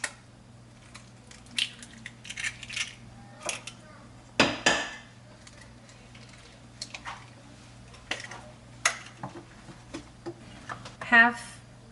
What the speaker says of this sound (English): To our dry ingredients, we're going to add 2 eggs.